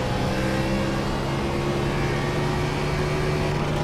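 A NASCAR stock car engine in iRacing held against its rev limiter just under 9,000 rpm, a loud, continuous buzzing drone with steady harmonics that does not let up.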